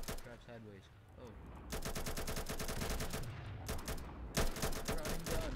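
Rapid automatic gunfire from a vehicle-mounted driving gun in a Roblox game, long dense bursts of clattering shots at close range, with a short louder stretch near the end.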